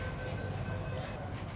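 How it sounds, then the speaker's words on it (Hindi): A Mumbai Metro train stands ready to depart, giving off a steady, fairly loud low rumble and hum with a faint high electrical whine above it and no clear voices. "चलिए भाई अपनी मेट्रो चलने के लिए है रेडी।"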